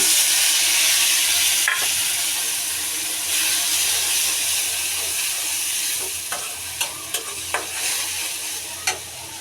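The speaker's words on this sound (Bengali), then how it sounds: "এখন আমি পেঁয়াজগুলি ভেজে নিব" Onions fry in a hot pan at home with a steady, close hiss and sizzle. Several sharp stirring scrapes and taps come toward the end.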